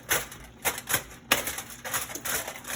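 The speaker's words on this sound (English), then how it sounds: "move this, and just scrape it off the aluminum foil" A utensil scrapes cooked food off aluminum foil in a series of short, close, crinkly rasps, several distinct strokes followed by a stretch of steady scraping and rustling, with no talking.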